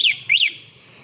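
Two sweeping, rising and falling electronic chirps from a three-wheeled electric bike's security alarm sound in quick succession, then fade into low background noise.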